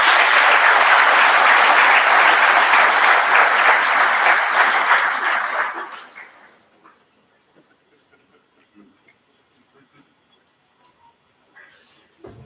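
Loud conference audience applause fills the first six seconds, then stops abruptly, leaving near silence with a few faint scattered noises and a brief rustle at the end.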